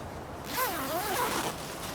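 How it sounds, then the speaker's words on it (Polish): A zipper on a Swagman Roll bedroll is pulled open in one smooth, close rasping stroke lasting about a second, clear against a quiet background. "Jak widać, jest tutaj zamek błyskawiczny."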